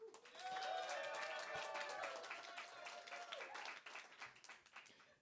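An audience in a crowded hall claps and cheers to vote for a contestant, a dense burst of applause with shouts and whoops that slowly thins and fades.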